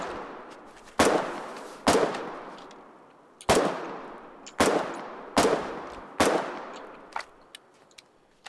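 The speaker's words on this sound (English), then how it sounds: "Guy who's shooting us, stop." Single gunshots in the war game Foxhole ring out one after another at irregular intervals, each a loud crack with a long fading echo, about seven shots in all, with no voices over them.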